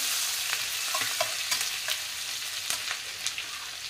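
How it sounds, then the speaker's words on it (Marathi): Ginger-garlic paste sizzles and fries in a pan while being stirred, with steady broadband hiss and scattered scraping clicks of the spoon across about four seconds, close and moderately loud, no talking. "आपल्याला त्याच्यामध्ये आलं लसूणची पेस्ट टाकायची आहे. मग त्याला एकदा नीट मिक्स करायचं आहे."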